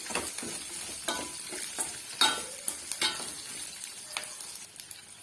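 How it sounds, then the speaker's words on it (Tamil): Sambar onions (shallots) sautéing in a pan over a medium flame for a village-style brinjal dal sambar: steady soft sizzling broken by repeated scraping stirs of a spatula, close and alone with no talk. "மீடியமான ஃப்ளேம்லேயே இது நல்லா வந்து வதக்கி விட்டுடலாம்"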